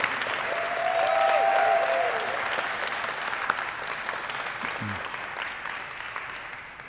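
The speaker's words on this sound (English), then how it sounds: "How about a big round of applause for our newest Aerospace Medicine resident graduates." Audience applause at a military aerospace medicine residency graduation ceremony, a broad even roar of clapping that swells in the first two seconds and then holds steady and slowly tapers, heard from within the hall.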